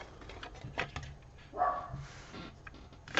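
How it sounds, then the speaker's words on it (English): A dog gives a few short barks and yips in the background of an indoor room while a toy is being repaired, faint and brief over a quiet room. "Don't mind the dog."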